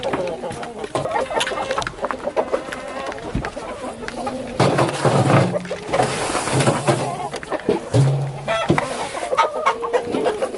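Hens on a new ten-acre homestead cluck and squawk in a steady, busy chorus, some birds close and others farther off, with a few sharper calls standing out and brief talking mixed in.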